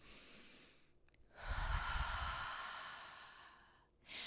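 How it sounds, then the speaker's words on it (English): Calm, deep breathing up close: one long, slow inhale followed by a soft, drawn-out exhale, with the next breath starting at the end. "We can breathe."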